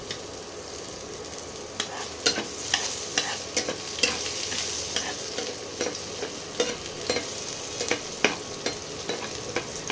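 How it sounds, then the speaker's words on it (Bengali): Chopped garlic sizzles steadily in hot oil in a pan for an egg curry, with a spatula scraping and stirring in frequent sharp strokes over the continuous frying hiss; nobody speaks. "এই রসুন কুচিগুলো প্রথমে দিতে হবে।"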